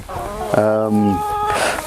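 Free-range chickens give a few short clucks and a drawn-out tonal call from inside a chicken tractor out on pasture, close by and moderately loud, over a constant outdoor background.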